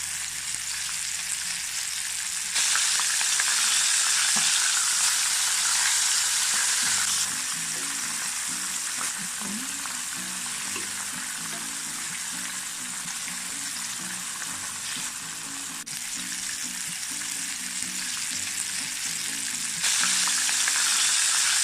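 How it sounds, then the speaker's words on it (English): Squid and shrimp sizzle and crackle steadily in hot oil, the frying loud and close throughout, with occasional stirring clatter and surges as pieces go into the pan. "Then fry squid. Repeat as we fry the shrimp."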